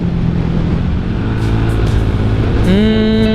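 A Honda Vario 150 motorcycle rides along a road in strong wind, its engine a loud close drone that climbs in pitch as it accelerates at the end.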